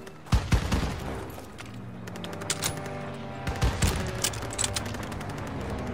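Gunfire bursts from Call of Duty: WWII, a World War II first-person shooter, in a fortress level, with sharp, loud shots clustered near the start and again midway over a steady battle backdrop, no talk.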